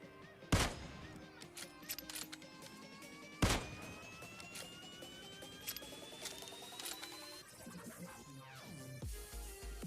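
Video-game gunfire hitting enemies: two sharp, loud shots stand out among faint scattered pops and rapid bursts, all fairly quiet against a busy background of game sounds.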